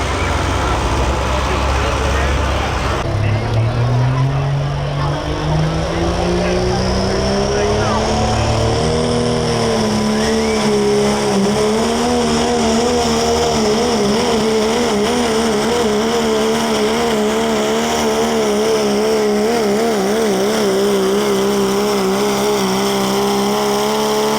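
A 3.0 diesel pulling truck's engine roars continuously at a truck pull in Tampico, Indiana, its pitch climbing and holding steady with a rough vibrating drone, while a voice talks over it throughout.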